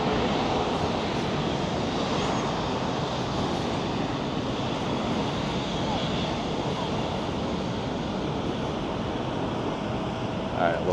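A Lufthansa airliner lines up on runway 24 Left at LAX, bound for Munich, heard as a steady broad roar of jet engines and wind, constant and moderately distant for the whole stretch.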